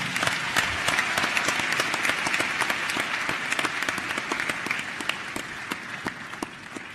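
An audience at the Africa Youth Connekt Summit gives a minister a thunderous round of applause, steady dense clapping with sharp individual claps standing out, lasting about seven seconds and tapering slightly toward the end.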